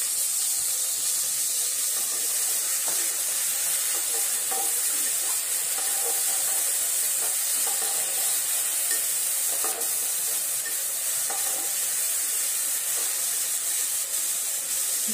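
Chopped tomatoes with a little water added to hot oil give a loud, steady hiss and sizzle with occasional stirring scrapes, continuous and close throughout.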